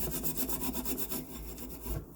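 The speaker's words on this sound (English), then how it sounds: "So I'm just going to show you here, just scrubbing it with the Spirinet." A Spirinet scrubber rubs briskly back and forth over a greasy stove top burner grate, a close, rhythmic rasping scrub with no talking.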